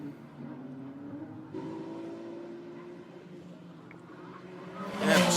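A Ferrari 296 Challenge race car on the Montréal circuit during qualifying, its engine note a steady mid-range drone that shifts pitch partway through, then a loud rushing burst near the end as the car passes close.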